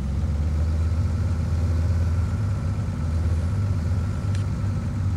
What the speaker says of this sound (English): You actually see my tractor.